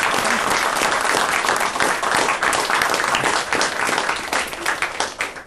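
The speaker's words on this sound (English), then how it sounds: "will you please join me in a round of applause for her today?" A conference audience gives a full, steady round of applause for Samia at the close of a talk on aid effectiveness in Pakistan's health sector, dense clapping that holds at an even level throughout with no voices.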